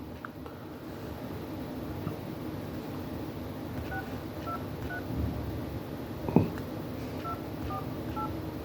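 Telephone dialing tones beep through a handset as a number is keyed, short evenly spaced tone pairs over a low hiss of line noise and faint handling rustle, with no talk.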